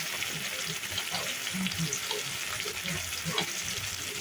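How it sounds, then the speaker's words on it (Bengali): Onion, tomato and ginger-garlic paste fry in a pan for chole, with a busy close sizzle and wet bubbling broken by soft stirring scrapes. "আদা রসুনের পেস্টটা দিয়ে দেওয়ার পরে বেশ খানিকক্ষণ আবারও কষাতে হবে।"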